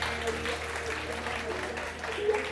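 A game-show studio audience claps in a sustained burst of applause while a host keeps talking over it.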